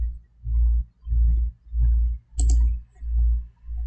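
A single crisp computer mouse click lands midway, set against a steady, rhythmic low thumping, during editing work in Photoshop CC 2021.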